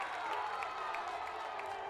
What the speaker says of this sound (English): Here's some jeers from the crowd.